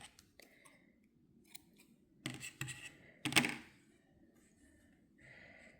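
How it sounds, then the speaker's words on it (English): Scissors snip yarn after knitting a baby sweater, a few sharp close cuts and small clicks spread across a quiet room, with a louder pair of snips in the middle. "I am going to cut my yarn"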